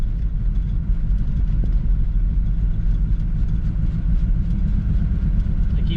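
A 1963 Impala SS barn find driving and cornering, its engine a steady low rumble held evenly throughout, close and loud with no voices.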